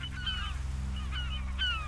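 Caspian gulls calling from a nesting colony on Tulenii Island in Absheron National Park, a few loud, clear, drawn-out cries repeating over a steady low rumble of wind or surf.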